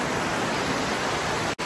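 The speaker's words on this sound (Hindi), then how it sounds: "बारिश हो रही है जोरदार, फुल जोरों में।" Heavy rain pours down in Mumbai as a dense, loud, continuous hiss, broken by a brief dropout near the end.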